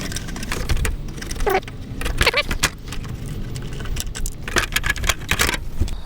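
Plastic trim clips being pried loose on a Mercury Grand Marquis during a headlight bulb swap, giving a series of close, sharp clicks and rattling plastic snaps over steady handling noise.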